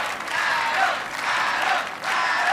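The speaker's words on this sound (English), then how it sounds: "the crowd is chanting Adam as he gets ready for the double helix" Crowd at the American Ninja Warrior Orlando finals cheering and chanting a competitor's name, a loud, sustained roar with rhythmic swells that dip briefly around two seconds before surging again.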